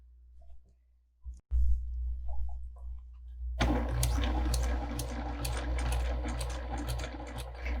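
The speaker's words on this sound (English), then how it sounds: "make sure as you're sewing around these" Sewing machine stitching along the curved seam of a quilt block, a steady close whirring run starting after a few seconds of quiet handling noise and continuing to the end.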